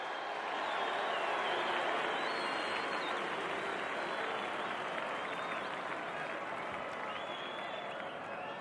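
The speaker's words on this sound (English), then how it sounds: "I wish you'd all give the Galway team a very, very big round of applause for a brilliant game here today" Big stadium crowd applauding the Galway team after the 1983 All-Ireland Football Final against Dublin, a dense, steady roar of clapping that holds evenly throughout with no break.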